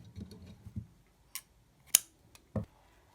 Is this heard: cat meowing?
no